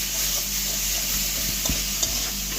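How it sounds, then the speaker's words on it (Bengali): Spices with ginger paste and cumin fry in a pan for a bottle gourd and prawn dish, giving a constant close sizzle broken by a few soft stirring scrapes, with no speech. "আবার নাড়াতে থাকবো।"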